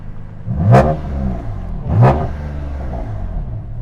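A car engine revs twice in quick bursts, a throaty rising roar each time, over a steady idling rumble.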